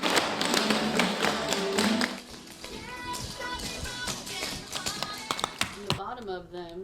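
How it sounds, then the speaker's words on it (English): Clogging shoe taps on a folk dancer's shoes click in quick, sharp bursts, with dense rhythmic tapping at first and sparser distinct clicks later, heard near and loud over background voices and some thumping. "It is the difference in the shoe's tap that gives it its unique sound."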